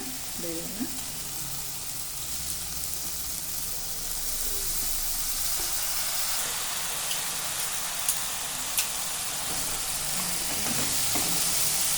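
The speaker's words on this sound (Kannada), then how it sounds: "ಒಂದು ಎರಡು ಮೂರು ನಿಮಿಷ ಸ್ವಲ್ಪ ಹುರ್ಕೊಳ್ಳೋಣ" Washed dal (lentils) frying in a pan sizzles steadily and loudly, a dense crackling hiss that swells slightly toward the end, with a few faint stirring sounds and no talk.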